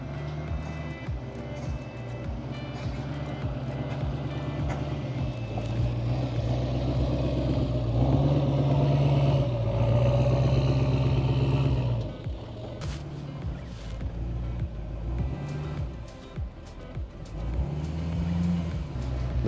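A vehicle towing a trailer loaded with pine logs on the way to a farm, its engine droning and rising steadily up close, with a louder surge midway and rattles over the rumble.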